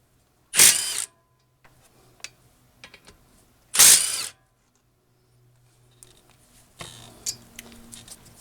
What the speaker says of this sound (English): This is just this new brushless fuel 3/8 impact that I just picked up, so I thought I would use it.